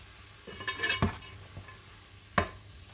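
Chili powder and salt are stirred into a soya mince curry in a pan over a soft sizzle. A few scraping strokes stand out, with one sharp scrape near the end.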